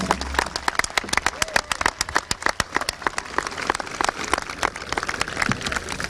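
Audience at a 2023 Williamsburg High School commencement ceremony claps, a dense burst of many hands that stays loud and busy throughout with some crowd noise underneath.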